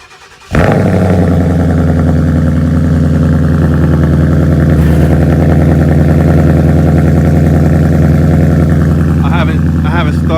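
A Ford Mustang GT fires up from cold with a sudden loud crank and catch, then settles into a deep, steady, rumbling idle that holds for several seconds, close and prominent.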